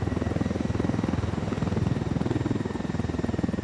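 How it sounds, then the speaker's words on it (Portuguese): A helicopter's rotor chops in a fast, steady rhythm in Ghost Recon Wildlands, loud and close, with a droning engine underneath and no talking. "Os caras não ouvem o barulho do helicóptero"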